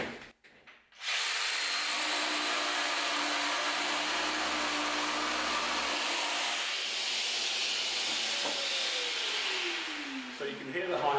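A Festool PSB 420 EBQ jigsaw cuts through laminate at high speed, a loud, steady, high-pitched whine that starts abruptly after a second and holds for about ten seconds, with a falling tone near the end as the cut finishes.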